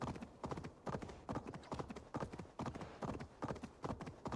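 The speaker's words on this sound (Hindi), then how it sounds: "अगर घोड़ा सही चलाओ ना बहुत भागता है।" A horse gallops in the video game Assassin's Creed Valhalla, its hooves beating a fast, steady three-beat rhythm. The hoofbeats are close and clear, with no voices over them.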